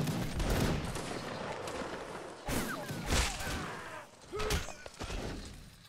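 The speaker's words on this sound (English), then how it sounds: "Someone's shooting." Repeated bursts of musket gunfire crackle over a dense, noisy Napoleonic Wars line battle game soundscape, with sharp shots clustered around the middle of the stretch.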